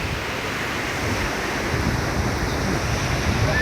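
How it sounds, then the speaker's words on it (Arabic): Loud, continuous sea surf washes onto a beach, a thick steady roar of breaking waves mixed with buffeting wind on the microphone, without pause. "كاين صداع شوية ديال البحر"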